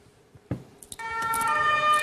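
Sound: German emergency vehicle siren (Martinshorn), city setting

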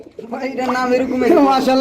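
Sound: pigeons cooing

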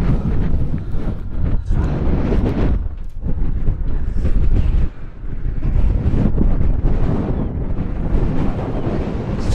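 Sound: strong wind

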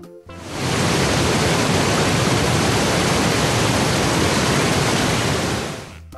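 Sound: waterfall

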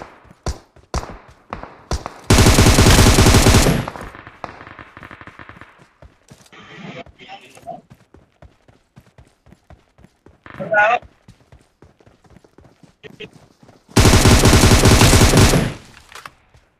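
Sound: gunfire in the video game BGMI

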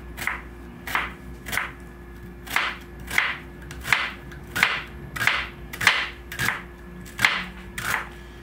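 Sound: knife cutting onion into thin julienne slices

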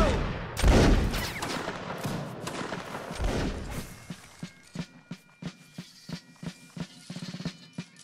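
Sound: musket volley fire in Napoleonic Wars video game

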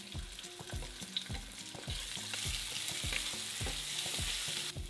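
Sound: frying tomatoes, tomatillos, garlic and onion in pan

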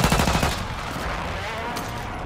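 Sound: sniper gunfire in the video game Call of Duty Warzone

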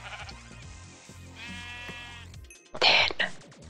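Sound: sheep bleating in the video game Minecraft

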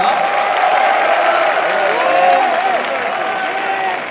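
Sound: audience applause at an outdoor concert event

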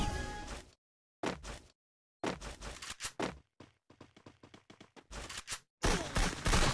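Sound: gunfire in the video game Free Fire

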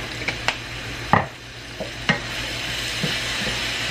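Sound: toasted sesame oil added to a hot pan, sizzling

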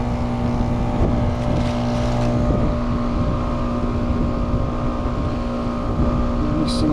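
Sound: heat pump blower motor ramping up

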